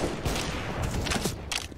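Rapid gunfire crackles through a Counter-Strike match on the Vertigo map during a DreamHack Open NA 2021 broadcast, dense overlapping shots in quick bursts over a busy, noisy background.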